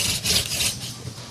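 A wooden spindle is spun between the palms on a wooden fireboard held down by a foot, giving a close, dry rubbing and rasping friction sound that swells and eases with each twist.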